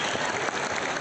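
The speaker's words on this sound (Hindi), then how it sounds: "तो मैं चाहता हूँ सबसे पहले तो जो भी हमारे साथी हैं, एक बार सब लोग एक बार जोरदार तालियां" An audience at an RCM Next Generation event applauds in a dense, steady burst of clapping across the whole moment.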